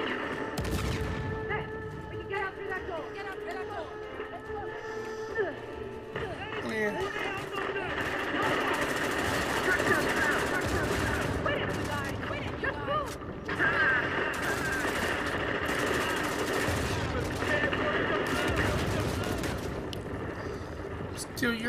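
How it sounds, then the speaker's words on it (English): Gunfire in Uncharted: The Lost Legacy rattles through a busy combat mix of bursts, scuffles and running, under steady game music, and people talk over much of it. "Who's shooting me?"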